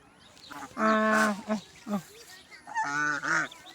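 Goslings honk nearby while eating grass, in a series of loud, nasal calls, some drawn out and some short, with brief pauses between bursts.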